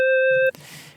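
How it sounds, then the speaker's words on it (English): A Serum synth sine wave with added harmonics plays as a single loud, pure, steady tone for about half a second, then cuts off abruptly into faint low noise. "That way you get a sine that sounds like this."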